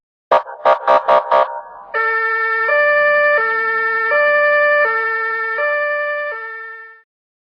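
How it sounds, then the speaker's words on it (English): An ambulance siren, opening with a few short bursts and then settling into a loud, steady two-tone hi-lo wail that alternates evenly for several seconds before cutting off. "ambulance,"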